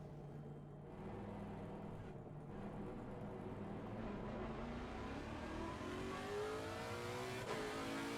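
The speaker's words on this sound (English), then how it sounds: "The sounds of these engines. All the cars in here just, they do sound absolutely incredible." Race car engine in the Assetto Corsa Competizione VR sim racing game roars loudly and steadily throughout, with revs climbing in pitch toward the end, no talk over it.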